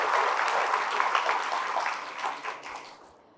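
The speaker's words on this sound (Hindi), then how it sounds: "जोरदार तालियां इनके।" Strong applause from an audience at a Buddhist vihara gathering in Chhattisgarh, steady and dense, then tapering off over the final second.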